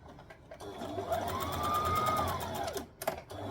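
A sewing machine runs steadily for about three seconds while back-stitching a dress bodice, with a whirring motor tone that rises and holds, then stops, followed by a couple of short clicks.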